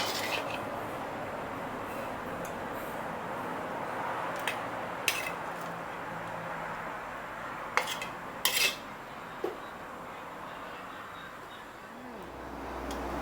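Utensils scrape and clink against a pan and plate as stir-fried shrimp with bird's eye chilies are scooped out, with a few sharp metallic knocks over a steady background hum.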